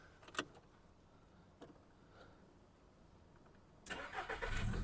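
A 2007 Volkswagen Golf Plus with a 1.6 MPI petrol engine, heard in a few quiet clicks and knocks, then the engine cranks and catches near the end and settles into a steady idle.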